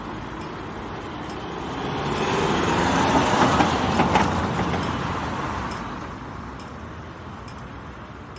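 Field recording of a car passing on a street, rising to a broad rumble mid-clip and fading away, followed by faint regular ticking of a traffic light signal at the end.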